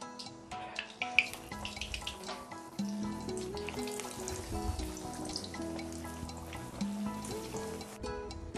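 Mutton keema patties fry in a pan with a steady low sizzle and crackle, punctuated by a few sharp clinks and utensil taps, moderately quiet with no talking.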